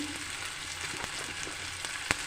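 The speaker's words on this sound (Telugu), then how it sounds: "ఉల్లిగడ్డ అంతా వేసుకొని నూనెలు బాగా ఫ్రై చేసుకోవాలి" Chopped onions frying in oil in a pan for an egg and tomato curry, giving a steady close sizzle with a few faint stirring clicks and one sharp scrape near the end.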